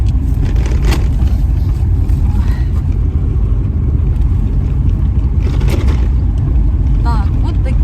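A car drives along a road on a trip to a country dacha, its steady low engine and road rumble continuous and close throughout, with talk over it.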